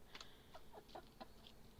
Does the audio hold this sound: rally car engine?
no